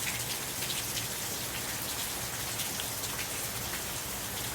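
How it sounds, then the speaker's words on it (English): Steady heavy rain pours down during a December rainstorm in Fort Worth, Texas, a dense continuous hiss of drops hitting surfaces, with no voices. "I think it's pretty good rain coming down."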